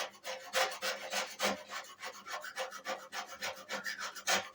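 A putty knife scrapes old paint off a wooden door for a box truck conversion, with rapid repeated rasping strokes in an uneven rhythm, close and alone.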